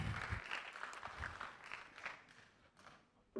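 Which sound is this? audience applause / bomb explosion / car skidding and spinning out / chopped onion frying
audience applause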